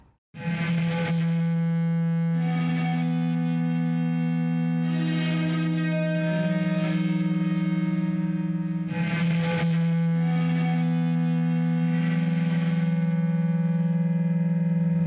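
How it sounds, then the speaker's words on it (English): An electric guitar, heavily distorted and run through an Electro-Harmonix Cathedral pedal set to reverse reverb, rings out in loud sustained chords that swell up and fade in breathing waves, with no one talking over it. "This signal has the cathedral reverse reverb from Electro Harmonics in it"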